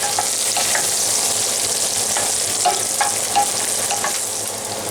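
Sausages fry in butter in a Stargazer cast iron skillet, giving a steady, loud, dense sizzle that holds evenly for five seconds, with small pops and crackles scattered through it and no voices.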